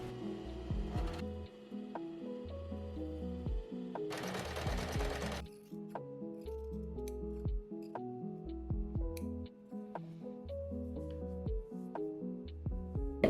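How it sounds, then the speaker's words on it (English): A serger sews across the top edge of lined activewear fabric in short bursts, a rapid mechanical whirring stitch that starts and stops, close and clear, with brief snipping or handling noises between runs. "I'm going to use my serger and go across just this top edge."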